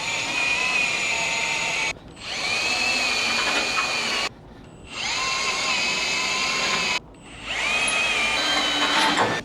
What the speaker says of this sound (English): he's got a step drill bit. He's going to drill these out